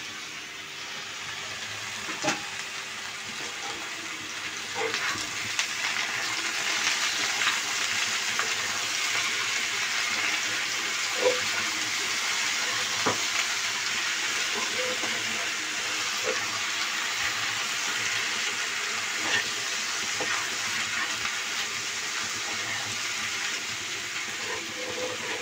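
Small cut brinjal (eggplant) pieces frying in oil in a pan: a steady, soft hiss with scattered faint pops and crackles running continuously, with no one talking.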